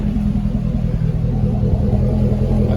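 A Chevrolet C6 Corvette V8 idling with its factory stock exhaust valves open, a steady, deep, close rumble that holds even throughout.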